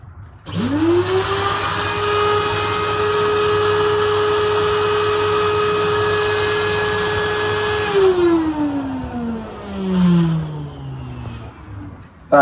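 A Numatic NQS vacuum cleaner switches on, its motor whining up to a loud steady roar, running for several seconds before winding down with a falling pitch.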